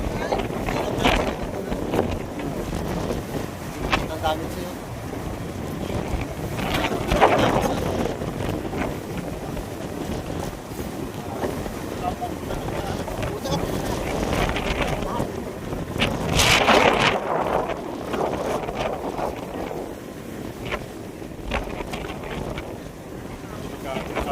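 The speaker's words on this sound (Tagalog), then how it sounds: "Lakas na hangin." Strong wind buffets the microphone in heavy, rushing gusts during a storm at sea, with water and ship noises beneath and a few voices talking.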